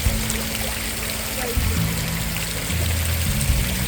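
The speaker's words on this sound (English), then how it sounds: "Next to us, there is a fountain." Water trickles and splashes steadily from a fountain at Paronella Park in the Australian rainforest, at a moderate distance, with a low hum and faint background noise underneath.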